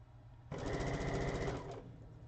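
A domestic sewing machine stitches in one steady, fast whirring run of about a second, close and fairly quiet, starting and stopping abruptly, used on quilting work.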